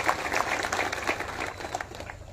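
A crowd at a political rally claps in welcome, steady mid-distance applause of many hands that continues without pause and fades slightly toward the end.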